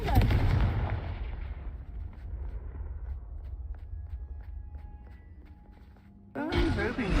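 Confringo fire spell cast in Hogwarts Legacy, a booming blast that fades into a long rumbling tail with scattered crackles, then a voice speaks at the end.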